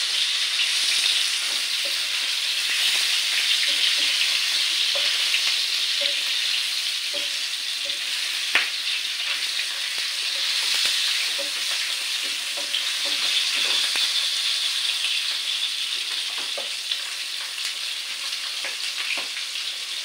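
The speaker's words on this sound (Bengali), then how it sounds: "মাছটা ভাজা করছি, ভালো করে একটু লাল করে ভাজা করে নেব মাছটা" Fish fries in a pan of hot oil for a home-cooked okra and fish curry, a steady close sizzle and crackle with occasional light stirring clicks throughout.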